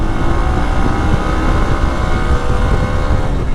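A Hero Xpulse 200 4V motorcycle engine held under throttle at high revs, a dense steady roar close to the microphone that carries through without break or voices.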